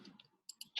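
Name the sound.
typing numbers in on a calculator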